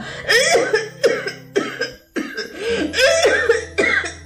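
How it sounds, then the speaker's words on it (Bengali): A woman in a rural Bengali stage drama coughs hard in a series of about seven loud, close, harsh bursts, with short gaps between them. "অমন করে কাশছো কেন?"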